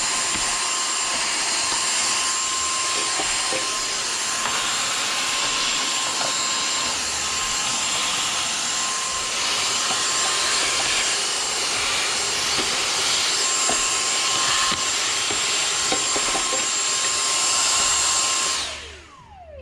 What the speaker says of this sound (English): Use your vacuum here, handheld vacuum.